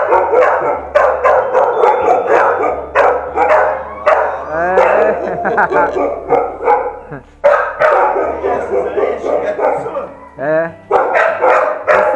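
A shelter dog barks repeatedly and loudly at close range, with the barks mixed under a person talking throughout.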